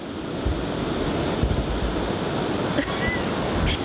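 Ocean waves break on rocks along the coast of Cornwall, England, making a steady, loud, close roar of surf with continuous wind buffeting the microphone and no one speaking.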